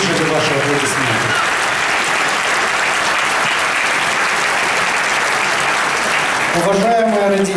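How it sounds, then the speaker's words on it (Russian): Applause for teachers at a school graduation ceremony, a dense, steady clapping from a large audience lasting several seconds before a voice resumes near the end. "Я считаю, что наши учителя заслужили ваши аплодисменты."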